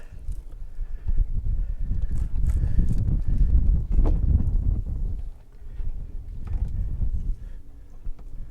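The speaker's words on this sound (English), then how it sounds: "Oh, wind's blowing now." Wind gusts roar across an outdoor microphone during fishing with planer boards, a loud low rumble that swells and eases over several seconds with no talking.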